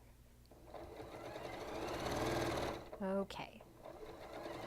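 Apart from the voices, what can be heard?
sewing machine stitching quilt seams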